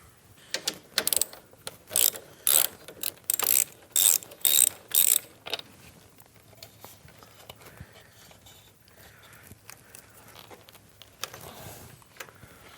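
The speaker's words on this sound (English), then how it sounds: "I have to take a 1/2 inch, loosen up this bracket" A half-inch ratchet loosening a bracket on a Harley-Davidson Milwaukee-Eight Road Glide, several rapid clicking ratchet strokes in quick bursts up close, followed by quieter handling noises and faint rustling, no talking.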